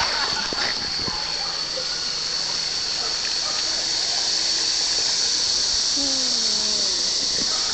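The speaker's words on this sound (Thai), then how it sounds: "อันนี้เรามาอยู่น้ำตกนะคะ" A waterfall in Thailand gives a steady, broad rush of falling water, loud and unbroken throughout, with faint squeaky sounds and brief distant voices mixed in.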